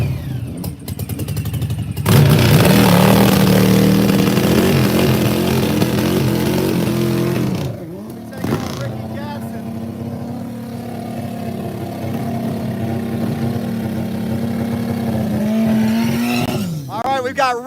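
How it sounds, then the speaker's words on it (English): A Harley-Davidson drag racing motorcycle at Rockingham Dragway roars loudly, its engine note rising in sustained high revs, cutting briefly, then revving again, with an announcer talking underneath. "This is Mike Motto, another Harley Davidson here out of GMS."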